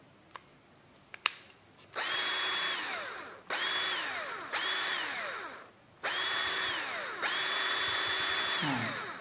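A cheap cordless hand drill, under $20, whirs in four bursts of spin-up, steady run and wind-down, close and fairly loud, after a couple of faint clicks.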